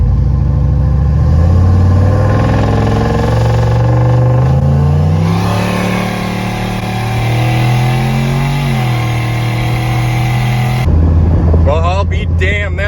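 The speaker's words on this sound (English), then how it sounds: "We're gonna do a little launch from a dig here." A tuned turbocharged AWD GMC Sierra pickup launches from a dig, its engine revving hard with rising and falling harmonic tones as it pulls through gears, loud and close, ending in a sharp turbo flutter.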